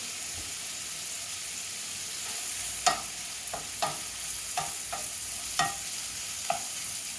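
Bacon fries in a pan over medium heat with a steady, soft sizzle. A handful of sharp scrapes and clinks from stirring or turning the strips punctuate it at irregular intervals, close and moderately quiet, with no talk.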